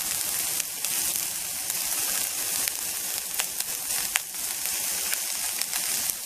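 Polish sausages, fatty and garlicky, sizzle and spit steadily in a camp pan with little added oil, a continuous close frying hiss broken by occasional sharp pops.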